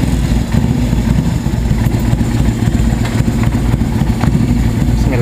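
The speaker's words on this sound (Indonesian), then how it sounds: "Sebelumnya kita hidupin dulu." The 250 cc engine of a Kaisa Ruby motorcycle, a Harley-style Indonesian bike, idles loud and close with a steady low rumble and faint ticking, and no voices.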